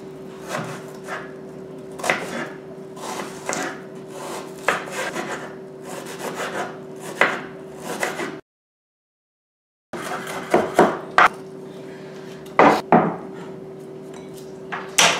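White onion being finely chopped with a knife, giving rapid, irregular taps and scrapes on a wooden board close up, with a steady background hum and a brief silent break partway through.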